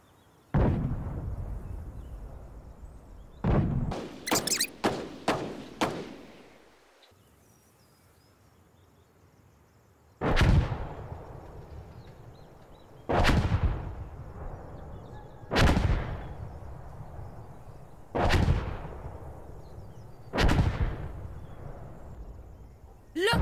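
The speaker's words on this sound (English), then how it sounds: "We need you to fire explosive artillery here!" Explosive artillery barrage in the video game Insurgency: Sandstorm: a quick cluster of sharp blasts, then five heavy booming impacts spaced a few seconds apart, each with a long rumbling tail, loud and fairly close.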